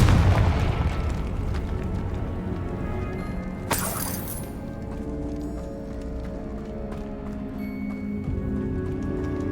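A Confringo fire spell exploding in Hogwarts Legacy, a heavy boom at the start that fades into a rumbling game background, with a bright crackling burst a few seconds later.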